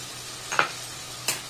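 A spoon scrapes twice through green chilli sauce, soy sauce, white vinegar and tomato sauce in a pan for street-style veg noodles. The two short stirring strokes sit close and fairly quiet over a faint background hiss.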